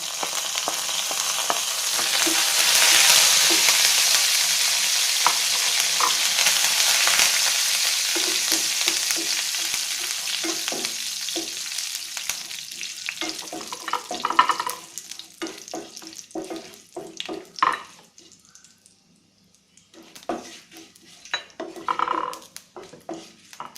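Curry leaves and prawns fry in hot oil with a loud crackling sizzle at first that gradually settles, overlaid by scraping and clinking of a spoon against the pan as the mixture is stirred nearby.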